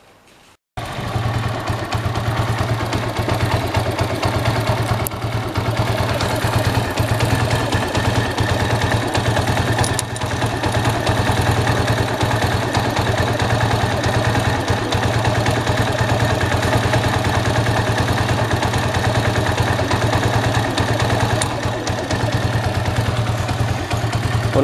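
An Italika motorcycle engine runs on 100% ethanol after carburetor adjustment, holding a steady, loud, close idle with a constant low drone and light mechanical clatter for the whole stretch, no voices.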